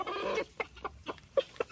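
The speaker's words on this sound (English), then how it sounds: "Those are happy rooster noises." A rooster clucks contentedly while eating a chunk of watermelon at a farm animal sanctuary: one longer burst of clucking, then several short, close clucks spaced out at an irregular pace.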